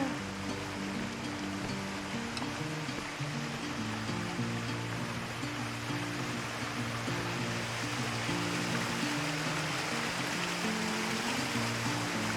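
A small waterfall on a hiking trail at Mt. Vernon rushes in a steady, continuous wash of falling water, with no voices.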